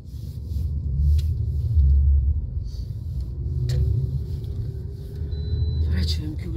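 Morning road traffic heard from inside a vehicle at about seven o'clock, a continuous low rumble of passing cars and buses swelling and fading, with a voice talking over it.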